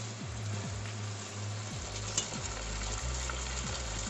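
Cooked pasta being stirred into chicken scampi in a hot pan, a steady sizzle of frying under repeated soft scraping and tossing strokes, close and continuous with no talking.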